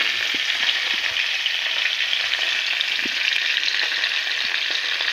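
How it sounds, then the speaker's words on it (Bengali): Three green chillies and nigella seeds fry in oil left over from frying okra, producing a loud, steady crackling sizzle with scattered small pops and no talking. "এইবার এই তেলেতেই দিয়ে দেব 3টে কাঁচা লঙ্কা আর কিছু কালো জিরে।"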